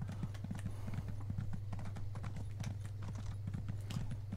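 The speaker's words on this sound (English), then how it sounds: "It just feels so slow running on the horse at the moment." Horse hooves clip-clop in a steady, quick rhythm while riding in Elder Scrolls Online, with a constant low hum underneath and the beats staying even and fairly close throughout.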